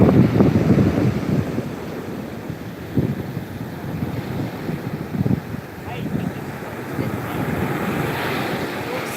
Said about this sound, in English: Look at that wave.